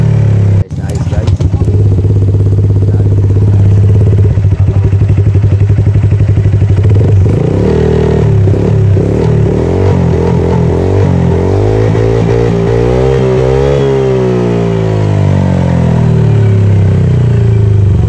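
A Honda Click 125 scooter fitted with a Kaizen exhaust pipe idles loudly and close, then revs up and down in rising and falling sweeps with a rattly clatter, someone talking over it at times.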